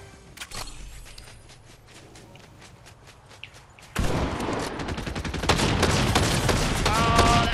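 Mammoth Pistol gunfire in the Fortnite video game: sparse shots and clicks at first, then a dense, loud stretch of rapid gunfire with footsteps and other game effects in the second half.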